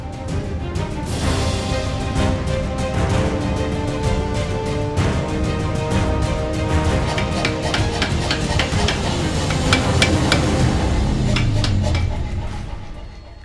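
A hammer forges wrought iron for a halberd. Ringing metallic strikes come densely and unevenly over a continuous workshop din, loud and close throughout, with no voices.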